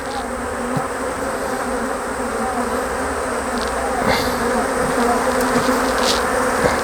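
Honey bees swarm around an open, crowded hive, a dense, steady buzz close by that swells slightly, with the occasional louder bee passing near.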